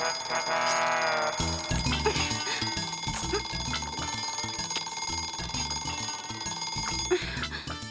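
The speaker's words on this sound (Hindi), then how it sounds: "अलार्म बजता हुआ सुनाई नहीं देता क्या?" An alarm clock's bell rings loud and continuous for the whole stretch, a rapid metallic clatter with steady ringing tones, over a busy comedy-scene background.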